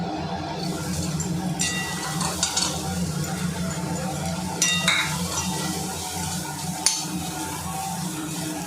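Chopped onions sizzle in a pan for a dry-roasted chana badam masala made without oil, a steady close frying hiss broken by occasional scrapes and clinks of a stirring spoon.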